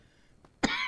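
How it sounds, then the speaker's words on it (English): A single sharp cough from a person near the microphone bursts out after a moment of near silence, followed by a brief rasping tail. "All of a sudden, I've decided to hack and cough."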